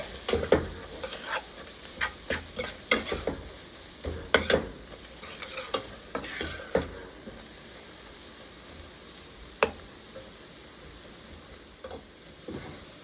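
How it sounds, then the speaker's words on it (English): Flour sautéing for about a minute in a pan for a smoked rib and pickle soup, a steady low sizzle broken by repeated scraping stirs, close by with no talking. "I'm going to go ahead and add in my flour. And I'm only going to saute it for a minute"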